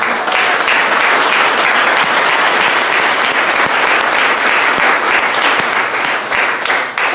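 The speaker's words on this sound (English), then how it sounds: "Get a big round of applause for these." A networking event audience gives a big round of applause, dense steady clapping filling the room from start to finish at close range.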